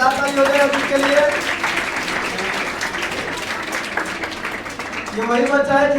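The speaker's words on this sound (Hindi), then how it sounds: "चलिए जोरदार ताली हो जाए अजीत के लिए" Applause from an audience at a coaching institute's student award ceremony, a steady wash of clapping for a district topper lasting the whole stretch, with a voice speaking over it near the start and end.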